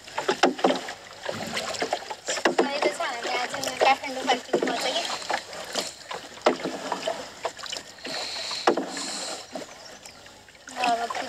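A boat is rowed on Begnas Lake, with repeated paddle strokes and water sloshing close by. People talk throughout.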